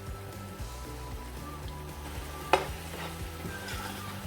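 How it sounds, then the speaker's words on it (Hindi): Tomato and onion with turmeric and coriander powder frying in a pan, a steady soft sizzle with gentle stirring scrapes and one sharp clink of the spoon midway. "मिक्स करेंगे। टमाटर और प्याज को हम अच्छी तरह से गला लेंगे।"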